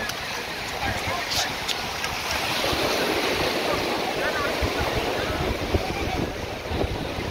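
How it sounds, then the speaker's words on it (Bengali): Wind and sea waves rush in a constant broadband roar at Parki sea beach in Chittagong. Wind buffets the microphone heavily, and faint, distant sounds of people lie beneath the noise. "সমুদ্রের ঢেউ বাতাসে"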